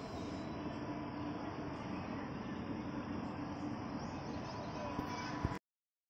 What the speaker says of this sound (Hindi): गाइस ये है इनका गिल रेलवे स्टेशन छोटा स्टेशन है